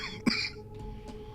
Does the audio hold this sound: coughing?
yes